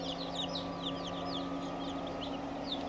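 A brood of baby chicks, a couple days old, peeps continuously in overlapping high chirps, moderately close over a steady low hum.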